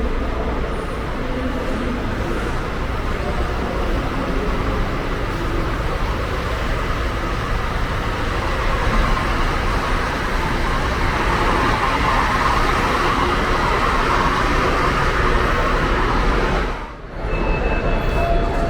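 A Gontijo coach bus passes through busy Belo Horizonte traffic in Brazil, with a steady loud rumble of engines and road noise throughout and a brief dip near the end.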